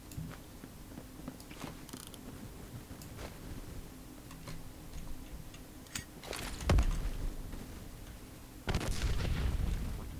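Two grenade explosions in the Roblox shooter Phantom Forces, each a loud low-heavy blast with a sustained rumbling tail, the first around midway and the second near the end, over faint background game noise and scattered clicks.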